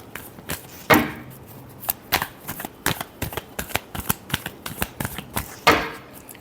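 A deck of tarot cards is shuffled by hand up close, with a run of crisp, rhythmic riffles and soft slaps, some louder snaps standing out among the quick repeated strokes.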